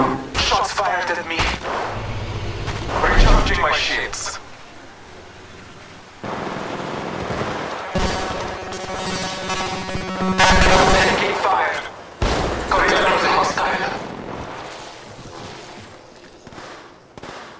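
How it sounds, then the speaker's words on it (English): Bursts of gunfire in the mobile battle royale game Apex Legends Mobile, loud and repeated shots with echoing tails, mixed with game sound effects and an announcer-style voice. "Shots fired at me."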